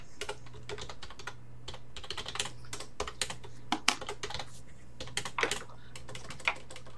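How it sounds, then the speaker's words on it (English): Someone types on a computer keyboard, producing quick, irregular clusters of crisp key clicks with short pauses between bursts. The sound is close and clear over a faint steady hum. "Well, I'm so good at typing,"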